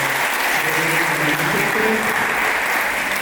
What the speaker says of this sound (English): Can we give a big round of applause for being here